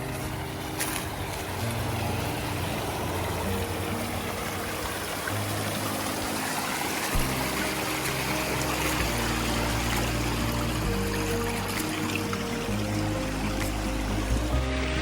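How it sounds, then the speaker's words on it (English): Spring water runs steadily out of an old pipe at a mountain spring in Arkansas, trickling and splashing without a break for the whole stretch. It stays close and fairly loud over a low rumble. "I heard some water running over here"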